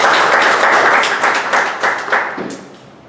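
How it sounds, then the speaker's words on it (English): A crowd applauds with steady, dense clapping that gradually thins and fades toward the end. "Please give him a big round of applause."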